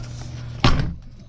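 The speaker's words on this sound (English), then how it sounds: "We have to do the close the door test" A cargo trailer camper conversion's door swings shut with one solid, close thump, ringing briefly over a low steady hum before fading.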